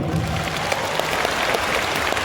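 A seminar audience claps together, a dense, even burst of applause at moderate distance that holds steady for a couple of seconds.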